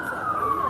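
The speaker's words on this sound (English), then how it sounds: "as another ambulance tries to get through" An ambulance siren sounds on a street in Turkey on election night, a steady loud wail whose pitch drifts slightly downward as it passes close by.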